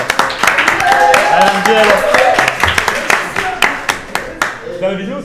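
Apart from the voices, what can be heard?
audience applause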